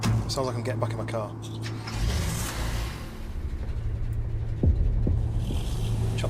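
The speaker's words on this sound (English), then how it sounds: "Sounds like I'm getting back in my car." Vehicle door and engine sounds as a player climbs back into a car in a post-apocalyptic survival video game, a low steady hum with a few clunks and thumps, some spoken voice mixed over it.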